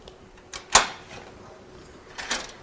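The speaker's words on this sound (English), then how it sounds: "First, open the main door." The main door of a slot machine (electronic gaming machine) swinging open: a sharp click and latch clack, then a brief rattle and a second softer clunk, close and fairly quiet.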